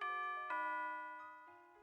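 Doorbell chime in the video game Nekopara Vol.1, two clear bell-like tones, the second ringing out and fading, heard alone and fairly quiet.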